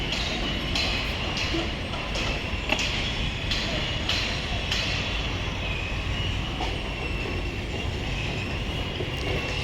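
A metro train rumbles past at moderate distance with steady rolling noise and faint clicks from the rails, heard outdoors near an IT park construction area in Chennai with no talk.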